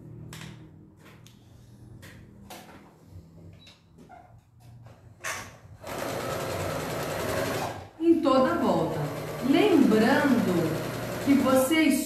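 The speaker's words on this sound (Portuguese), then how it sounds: "Então eu vou costurar aqui a volta toda. Eu vou juntar os dois blocos, passar um pé de máquina" A sewing machine stitches two fabric blocks together with a loud, steady whirring run. Scattered clicks and handling noises come before it, and someone talks over the machine as it keeps running.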